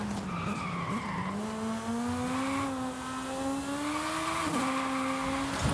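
In Forza Horizon 5, the world's smallest car brakes into a skid, its tires squealing in long, wavering high-pitched tones over a continuous engine drone.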